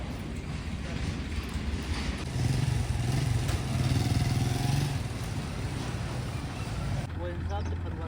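A motorcycle is ridden toward a farm field with its engine running steadily nearby and the revs rising in the middle. People talk over the engine noise.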